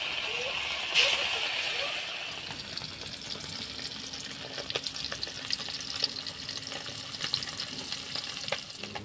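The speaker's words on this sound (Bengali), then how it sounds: "লবণ হলদি মাখিয়ে এখন ভেজে নেব ভালোভাবে।" Fish coated in salt and turmeric fries in hot oil for a fish curry with potato and brinjal, giving a steady close sizzle and crackle with occasional stirring scrapes while a voice talks over it.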